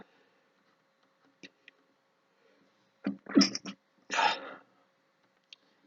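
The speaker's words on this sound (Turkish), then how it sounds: "Bazen hapşırmam geliyor, hapşırıyorum e, ve ardarda arda hapşırıyorum." A man sneezes twice in quick succession, close and sharp, the bursts standing out against a quiet room with faint small clicks before and after.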